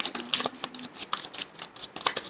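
Tarot cards being shuffled and drawn by hand, with quick papery riffles and soft flicks in short bursts, close and fairly quiet.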